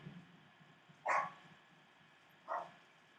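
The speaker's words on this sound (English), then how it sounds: "A live event with me would not be complete if I didn't have a dog barking." A dog barks twice indoors, two distinct sharp barks about a second and a half apart over a faint low background hum.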